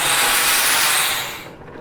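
Zip line trolley swooping in and arriving at the end of the line, a loud close rushing whir that fades over a second or two.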